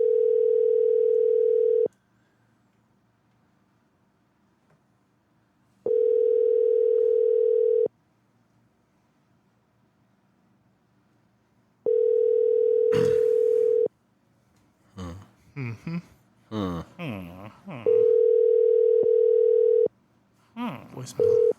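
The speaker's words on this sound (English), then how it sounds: "We are gonna call David Conflict" Outgoing telephone call ringback tone: a steady electronic tone sounding for about two seconds, then pausing about four seconds, repeating several times, with voices talking between and over the later rings.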